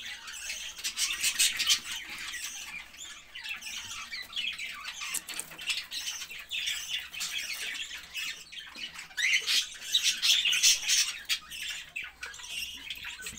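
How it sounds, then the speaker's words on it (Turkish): Cockatiels, adults and young, squawk and chirp in a cage while eating, a steady busy flock chatter with sharp calls rising in bursts, close and fairly loud. "Şu an mama yiyen sultan papağanlarımız."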